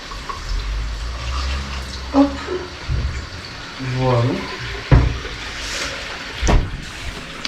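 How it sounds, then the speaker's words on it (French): Water poured over a mixture in a cooking pot, a close splashing and gurgling stream with a few clunks, and a voice talking over it partway through. "Et on va recouvrir tout ça d'eau en fait."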